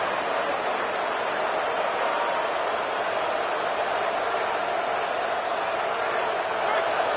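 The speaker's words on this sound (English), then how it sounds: "This crowd bringing the energy and noise early" A large crowd at a football game roars steadily throughout, a dense wall of cheering and noise with no letup, as if from a packed stadium.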